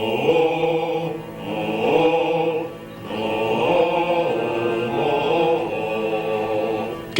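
Bass voices sing the theme of the moose in a comedy sketch, a low, full-throated melody of long sustained phrases with a brief dip midway, no speech over it.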